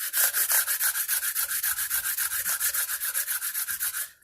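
A fret leveling beam rubs back and forth across banjo frets in quick, even strokes, about thirty close, dry scraping passes in a steady rhythm, alone with no talk.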